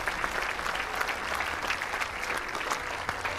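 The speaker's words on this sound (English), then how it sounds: "But that is the applause" A crowd applauds steadily during a pregame ceremony behind home plate at a Cape Cod League baseball game at Veterans Field, Chatham Anglers vs. Harwich Mariners, with dense, continuous clapping spread across the ballpark.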